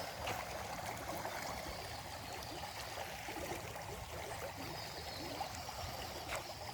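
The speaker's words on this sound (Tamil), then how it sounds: "எவ்வளோ தண்ணி போய்கிட்டு இருக்குது பாருங்கள்" Surplus water pouring out of a village pond, a steady, low rushing flow with a soft trickling texture, fairly quiet and unbroken throughout, with no voices.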